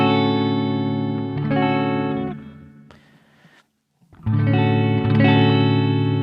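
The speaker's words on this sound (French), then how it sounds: "Hop, je mets en position la reverb." An electric guitar rings out chords drenched in reverb from a MOOER Red Truck effects unit, the notes washing and lingering, with a brief near-silent gap before strumming resumes.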